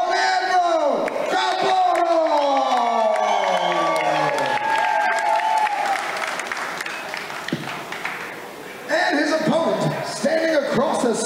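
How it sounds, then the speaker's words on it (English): Crowd at a Muay Thai fight applauding and cheering loudly, with whoops and shouts rising and falling, dipping briefly before a fresh burst of cheers near the end. "a round of applause"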